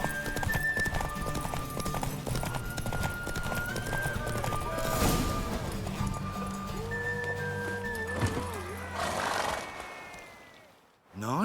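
Horse hooves clip-clop rapidly during a race in the video game The Witcher 3, with repeated neighs and whinnies over a busy game soundscape, the galloping fading out near the end.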